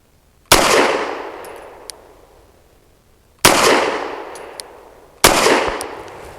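Three loud pistol shots ring out from a Fusion Firearms Ermox XP Pro firing Koenig 110 grain jacketed hollow point rounds, each a sharp crack with a ringing decay, spaced a few seconds apart with faint metallic clinks between.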